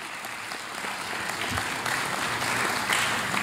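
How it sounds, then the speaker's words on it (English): Steady audience applause at a college athletics recognition ceremony, a dense wash of clapping that holds and slightly swells over several seconds. "they deserve a round of applause for the season they had"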